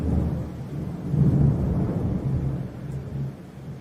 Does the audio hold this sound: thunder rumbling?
yes